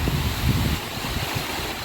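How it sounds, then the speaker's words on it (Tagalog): Strong typhoon wind gusts roar steadily throughout, whistling, a broad rushing noise with buffeting low rumble, close and loud, with no voices. "Pumipito yung hangin."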